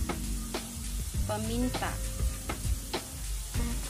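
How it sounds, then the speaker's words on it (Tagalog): Pork sautéing in a pan for a spicy eggplant dish, a steady close sizzle with utensil scrapes and stirring clatter, while a person speaks briefly over it. "habang ginigisa natin yung pork"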